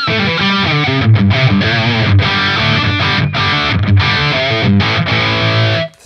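Heavily distorted crunch-tone electric guitar played through a Line 6 Helix, chugging rhythm riffs with ringing sustained chords, loud and continuous for about six seconds before cutting off, with no talking.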